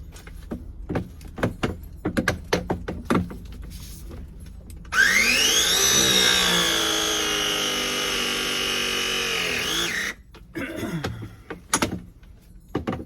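A cordless Apollo Pro press tool crimps a 2-inch pipe fitting, giving one sustained whirring press cycle of about five seconds, framed by sharp clicks and handling knocks before and after.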